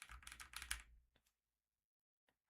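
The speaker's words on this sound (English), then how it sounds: "I'm going to try to type normally on a quiet keyboard." Quick burst of typing on a quiet mechanical keyboard with brown switches, a close rapid flurry of soft clacks lasting under a second, then a couple of isolated keypresses before silence.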